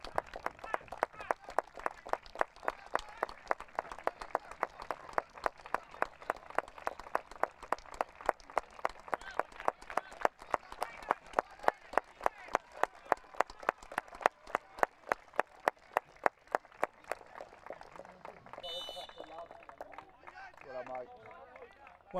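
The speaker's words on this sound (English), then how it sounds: "And listen to the applause" Spectators at an IFCPF Men's Euros 2025 football match between Ukraine and England clap steadily in a rhythmic, even beat for a substituted player, a long sustained run of applause under a commentator's voice.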